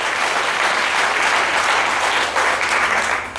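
A church congregation at a Sunday service claps steadily for Jesus, a dense, loud wash of applause filling the room without a break.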